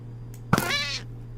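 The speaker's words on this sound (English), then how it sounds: "Hello, wither cats. I don't know why there are always wither cats here" A wither cat in a Minecraft modpack lets out a single short meow, close and clear over a steady low background hum.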